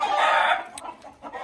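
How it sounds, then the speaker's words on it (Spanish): Roosters and chickens on a farm crow and cluck together, with a loud, drawn-out crow followed by scattered clucks and short calls from the flock nearby. "Así que aquí estamos con todos esos gallos."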